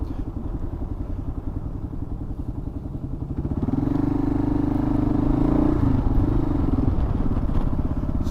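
A Kawasaki KLR single-cylinder thumper with an aftermarket loud muffler pulses and rattles while riding toward a freeway entrance, its steady throb swelling louder as the rider accelerates, with some wind noise.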